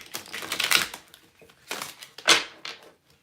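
Tarot cards are shuffled in a few crisp, riffling bursts of clicks and flutters with brief quiet gaps between them, close up and without talking.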